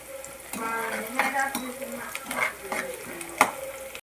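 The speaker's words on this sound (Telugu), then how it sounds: "బ్రౌన్ కలర్ వచ్చే వరకు ఎర్రగడ్డని బాగా బ్రౌన్ కలర్ వచ్చేదాకా ఎంగించుకోవాలి" Onions fry in a pan until brown for a goat curry while being stirred, with a lively sizzle and scraping utensil clinks against the pan at an uneven rhythm, close and fairly loud.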